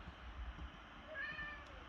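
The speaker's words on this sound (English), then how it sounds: "And there, that is the sound of a cat." A virtual synth patch voices a cat-like meow, a single short rising and falling tone near the end of a quiet two-second stretch, heard alone without talk.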